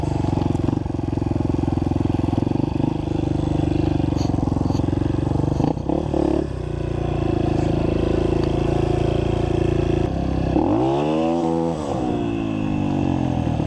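An enduro dirt bike revs hard and loud nearby, its engine note climbing and falling in a sweeping rev while roosting dirt, with a continuous rough motor drone throughout.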